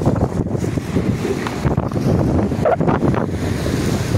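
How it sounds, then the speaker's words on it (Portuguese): Strong wind blows at a beach, roaring steadily against the microphone and mixing with the wash of surf, with no voices. "Aqui o vento tá batendo forte, né?"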